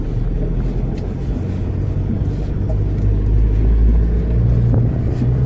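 A Land Rover Defender 4x4 drives across open moorland, its engine a steady, close, loud low rumble that holds evenly throughout with no voices.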